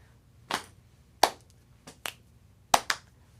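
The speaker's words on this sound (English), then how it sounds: "let's go to our Wildcat clap" A group performs a school cheer clap for the Wildcats, five sharp claps in an uneven, syncopated rhythm, moderately close, with no talking over it.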